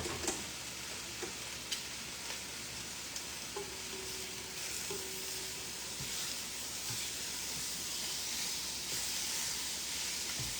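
Meat sizzles steadily in a hot nonstick pan, a constant crackling hiss with a few faint clinks, close by and without talk.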